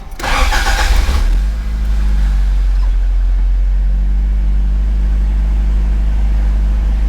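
A car engine cranks and fires, then settles into a steady, loud idle after a new T50 transmission install, with the car raised in the air.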